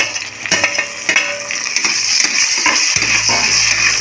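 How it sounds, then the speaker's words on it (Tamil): Onion and tomato sauté in a pan for a pressure-cooker mutton biryani, with a loud, close sizzle and repeated stirring scrapes and knocks, then a low hum joining in the last second, with no voices. "இப்போ தக்காளியும் சேர்த்து நல்லா வதக்கிக்குவோம்"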